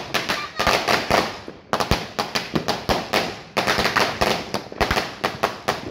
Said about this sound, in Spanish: Vean, allá abajo están reventando balas de cohete, creo que son esas.